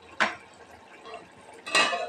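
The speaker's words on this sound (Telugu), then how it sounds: "బియ్యం అయితే కడిగేస్తాను" Rice grains being washed in a pot, with two short bursts of rattling, sloshing clatter separated by quieter handling noise.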